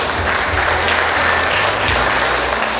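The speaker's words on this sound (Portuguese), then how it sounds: "Aplausos, por favor," Loud, sustained applause from a ceremony audience at an association's 45th anniversary event, a dense continuous wash of many hands clapping with a low background hum beneath.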